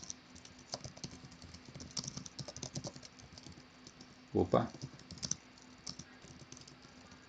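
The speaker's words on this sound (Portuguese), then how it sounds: "Eu vou mostrar como seria se você digitasse aqui apenas as letras." Letters are typed on a computer keyboard in a rapid, irregular patter of light clicks, with a louder knock midway and a brief spoken exclamation.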